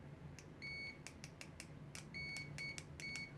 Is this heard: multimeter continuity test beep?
yes